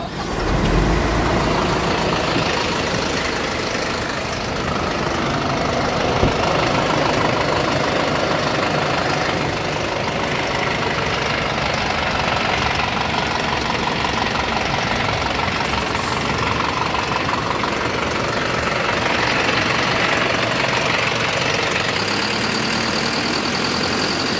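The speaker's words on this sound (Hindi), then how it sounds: "चलिए अब इसके इंजन साउंड को सुनते हैं" A Tata Ultra T.18 truck's diesel engine idles continuously up close, a loud, steady rumble with a knocking, rattling texture that holds unchanged for the whole stretch, with no voices.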